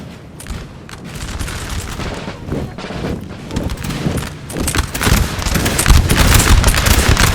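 Massed musket volleys from troops in Napoleon Total War crackle in a dense, continuous battlefield roar, swelling louder toward the end with deep booms underneath and no voices.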